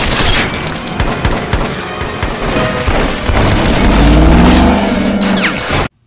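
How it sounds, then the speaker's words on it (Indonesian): Rapid bursts of gunfire in a film shootout inside a minimarket, where police are shot down, loud and dense throughout with booming low impacts and crashing debris before cutting off abruptly. "Namun tak disangka dan cepat anak buah Rome langsung menembak polisi tersebut sampai mereka semua meninggoy."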